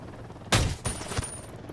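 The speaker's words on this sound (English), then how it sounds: "Took 2 shots with the BFG." Heavy gunfire from the BFG weapon in Ghost Recon Wildlands: a loud, close blast followed by a second shot with rolling echo tails, no talking.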